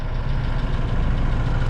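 A Vauxhall Cavalier's engine idling steadily after being revved back to life, following damage from attempted theft; a continuous close, low rumbling drone with no speech.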